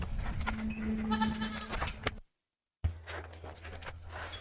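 A goat bleats repeatedly in a rustic village setting, several loud nasal cries close by, followed after a brief silence by more bleating and rustling movement.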